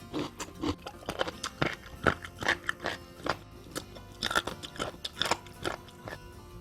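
Close, crunchy biting and chewing of food, with repeated irregular crisp crunches and no talking.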